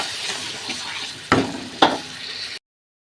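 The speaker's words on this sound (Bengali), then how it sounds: "সব মশলা একসাথে দিয়ে আমি ভালো করে কষিয়ে নেব।" Spices with turmeric and chili powder fry and get stirred in a pan, a steady hiss of sizzling oil broken by two sharp scraping clatters of the spoon, close by and with no one talking.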